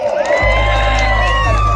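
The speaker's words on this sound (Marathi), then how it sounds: "एकदा सगळ्यांनी स्वतःसाठी टाळ्या वाजवा" Wedding crowd cheering and whooping loudly for the whole moment, with a strong steady low hum from a sound system underneath and voices mixed into the noise; clapping is not clearly distinct.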